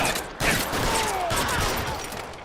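Gunfire in the video game LA Noire, a rapid burst of shots layered over rumbling noise and mechanical clatter, loud and close for a couple of seconds.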